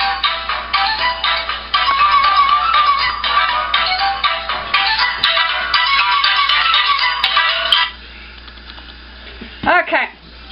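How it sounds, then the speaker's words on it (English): Mobile phone ringtone playing as a loud, steady melodic tune for several seconds before cutting off, followed by a brief voice. "Oh, there's my phone goes."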